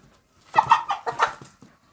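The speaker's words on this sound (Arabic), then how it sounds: "اهو دي دجاجة" Ornamental chickens clucking close by, a few short bursts of clucks over about a second, then fading out.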